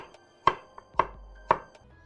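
A knife chops through zucchini on a cutting board with three sharp, evenly spaced strikes about half a second apart, plus a couple of lighter taps between them, close and clear with no talking.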